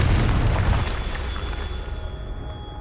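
One Confringo blasting spell explodes in Hogwarts Legacy with a heavy, deep boom up front that rumbles and fades away over a couple of seconds, leaving a faint tonal hum.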